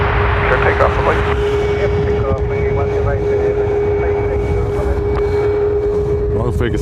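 A Ryanair airliner departs runway 10 right at Dublin Airport, its engine roar a steady, loud broadband rumble throughout, with a constant tonal hum and radio-style talk heard over it.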